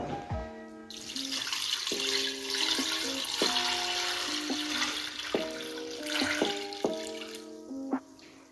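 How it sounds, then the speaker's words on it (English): Cooled sugar syrup tipped onto elderflowers and lemon for elderflower cordial pours as a continuous liquid splash and gurgle, close and steady for several seconds, with a tonal background layer and no talk. "if you just literally tip it straight onto your elderflowers and lemon"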